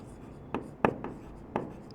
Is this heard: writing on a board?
yes